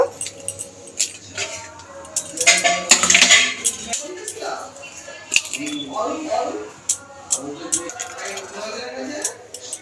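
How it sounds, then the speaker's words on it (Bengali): Eggs cracked into a bowl for a Maggi cheese omelette: sharp taps and clinks of shell against the bowl rim, clustered near the start, followed by softer handling sounds close by. "ডিমগুলোকে বাটির মধ্যে ফাটিয়ে নেব"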